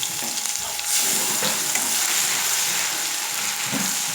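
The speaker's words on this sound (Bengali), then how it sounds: "এখন আমি এই যে ছেঁচে রাখা রসুনটা দিয়ে দিচ্ছি" Crushed garlic hits hot oil with dried chillies, giving a close, steady, dense sizzle and crackle with a brief surge as it goes in. No one speaks.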